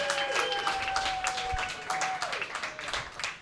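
A comedy club audience in Chicago gives brief, polite scattered applause and a few claps after a stand-up bit, with a faint tonal sound drifting over it.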